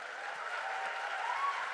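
An audience at a talk on customer satisfaction claps, mostly women, a soft, distant, even patter of many hands with no distinct individual claps.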